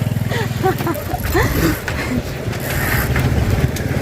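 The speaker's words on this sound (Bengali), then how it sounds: "এটা হচ্ছে আমাদের বাড়ির সাইকেল" A household bicycle ridden along with a continuous mechanical rattle of chain and pedals, plus intermittent squeaks and clicks, while a person talks over it throughout.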